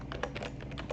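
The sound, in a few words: typing on a computer keyboard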